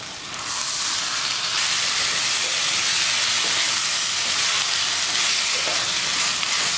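Cauliflower and spices sautéing in a pan for a Tamil cauliflower kootu, giving a steady, loud broadband sizzle that holds evenly throughout with no voices over it.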